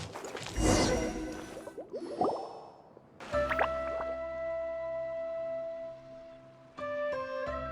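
A water droplet in Genshin Impact makes wet, squishy dripping and splashing sounds, followed by sustained chiming tones and a brief swish.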